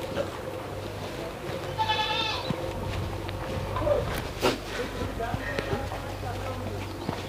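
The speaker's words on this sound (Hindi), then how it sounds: "ये तोतापुरी की बकरी है" Totapuri and Sirohi goats on a goat farm in Ajmer bleat a few times in short harmonic calls, with someone speaking nearby and faint farm movement in the background.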